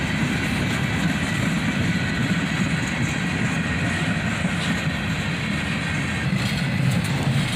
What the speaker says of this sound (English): And a single gondola brings up the rear of the train here.